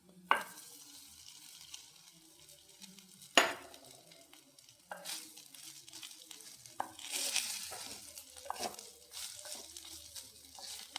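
Cooked biryani rice being stirred with fried onions and turmeric in a pan, giving soft scraping and shuffling strokes over a low sizzle, with a sharp utensil knock near the start and a louder stir later.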